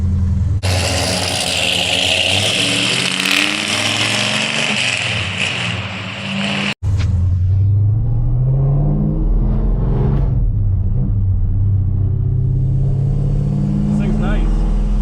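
A 1968 Oldsmobile 442 V8 pulls through its gears, a loud close engine roar climbing in pitch, then a sharp break at a shift before a deeper rumbling pull builds again.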